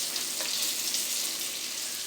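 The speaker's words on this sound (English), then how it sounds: "after we finish frying up the pork chops" Pork chops frying in hot oil in a pan, a steady close crackling sizzle with bright hiss, continuous throughout and without voices.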